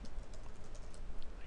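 Light, rapid key clicks of typing on a computer keyboard, close and fairly quiet, in a steady patter with no voices over it.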